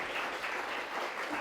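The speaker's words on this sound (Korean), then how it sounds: "자, 수고했다고 박수 한번 보내주실까요?" A school audience gives faint, steady applause after a high school mock criminal trial, a soft wash of clapping heard from a distance.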